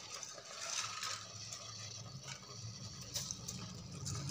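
Soaked basmati rice tipped into a pot for soya chunk biryani, a steady wet rustling and pouring hiss with faint scraping, moderately close and continuous without talk.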